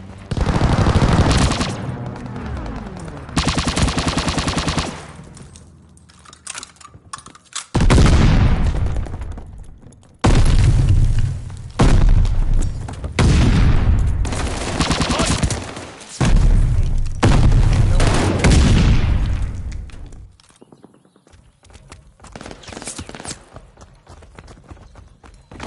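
Automatic weapons fire rattles in loud repeated bursts around a contested hard point in Call of Duty Vanguard multiplayer, with heavy booms and short pauses between volleys, all close and dense.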